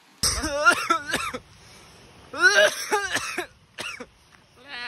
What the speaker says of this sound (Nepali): अब यो पानीमा खेल्ने चाहिँ यस्तै खोकी लाउँछ